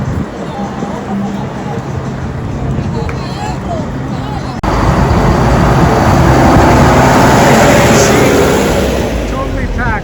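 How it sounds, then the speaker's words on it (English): Articulated TransMilenio accordion buses roll along a dedicated bus lane in Bogota, packed with riders. A loud, steady roar of engines and road noise swells midway, mixed with the hubbub of a crowd. "here is an example of the accordion buses that run along the dedicated"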